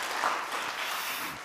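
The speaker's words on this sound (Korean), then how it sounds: "박수하겠습니다. 예, 박수합니다." A church congregation claps in welcome for a newcomer, a brief burst of dense, even applause that stays steady throughout.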